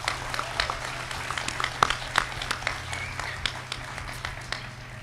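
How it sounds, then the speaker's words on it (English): Applause for graduates at a school graduation ceremony, heard as a faint, distant patter of many hands clapping with scattered louder claps throughout, steady and sustained. "Let's give them a round of applause,"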